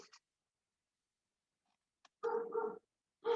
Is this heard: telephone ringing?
no